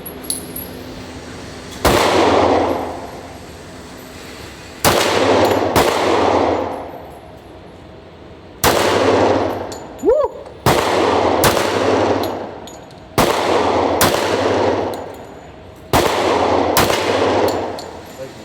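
Gunshots are fired at a range, loud sharp reports close by coming in uneven pairs and singles with ringing decays between them, about a dozen shots in all.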